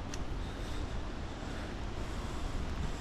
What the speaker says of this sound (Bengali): সঙ্গে ঝোড়ো হাওয়া, তার সাথে বৃষ্টি।